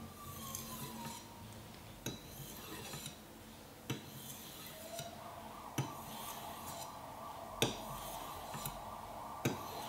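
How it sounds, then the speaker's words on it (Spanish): A knife blade is drawn across a Spyderco UltraFine ceramic sharpening stone, making soft glassy rasping strokes with sharp ticks at roughly two-second intervals, close and quiet, no speech. "El sonido, no sé si lo captará la cámara, es como pasar el cuchillo casi por cristal"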